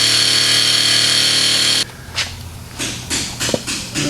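A power tool whines loudly and steadily before cutting out. Then come scattered scrapes, knocks and plastic rattles as a plastic dust shield is pulled off a square-body C10 truck.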